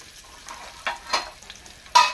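Onion and garlic frying in a pan for pizza sauce, with soft crackling sizzle and a few bursts of stirring scrapes, close and alone.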